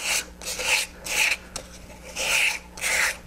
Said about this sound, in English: I'm just going to sand off any little fuzzy edges.